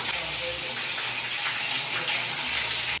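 Water from an Anthem digital valve body jet shower in a bathroom, a loud, dense, continuous hiss of spray that runs steadily and cuts off abruptly at the end.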